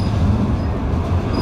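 A Class 399 tram-train rolls past on a line near Meadowhall, giving a steady, loud low rumble of wheels on rail that holds level throughout, with no one talking.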